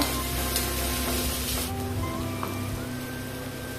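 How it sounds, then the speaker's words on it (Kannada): Whole spices including cinnamon, cloves, cardamom, mace, bay leaf and star anise frying in oil for prawn biryani, a steady close sizzle and hiss with faint stirring and no talk. "ಇಲ್ಲಿ ಒಮ್ಮೆ ಚೆನ್ನಾಗಿ ಫ್ರೈ ಮಾಡಿಕೊಳ್ಳ."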